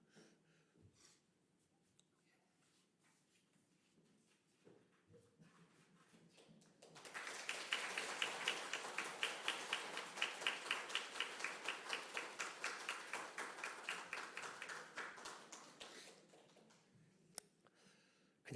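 A church congregation bursts into sustained applause for Sunday school teachers being given gifts. After a quiet stretch, dense, loud clapping runs for about eight seconds, then fades out.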